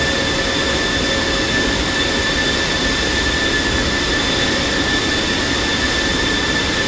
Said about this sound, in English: First F-16 GR takeoff.